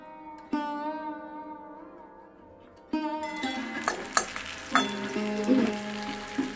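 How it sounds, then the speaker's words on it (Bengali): Fish sizzling in a pan in a home kitchen, a soft steady frying hiss beneath prominent music, with louder crackling and stirring clatter in the second half. "এই মাছ হচ্ছে ভাজা হবে"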